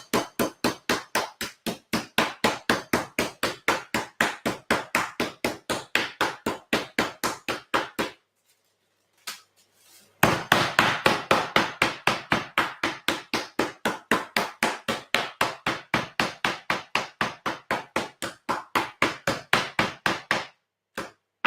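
Pieces of pork being pounded flat for porchetta: steady rapid thuds of a mallet in long even runs, a short pause near the middle, then another long run of close, sharp blows.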